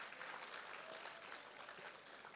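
Applause from a church congregation at a Khmer evangelistic gathering, a steady dense wash of hand clapping heard from a distance at low level, with no voices over it.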